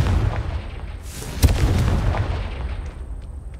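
In Hogwarts Legacy, a Confringo fire spell bursts with a sharp, booming explosion near the middle, trailing into a rumbling low roar over steady background noise.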